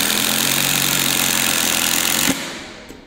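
A cheap Amazon knockoff of a Makita impact driver, sold for 3,800 yen, drives a screw with a steady, loud buzzing hammer for about two seconds before cutting off abruptly into quiet.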